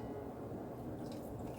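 Liquid wool dye, mixed for variegated red rug-hooking wool, pours awkwardly from a spoutless jar, a soft, faint trickle and splash that lasts only a moment.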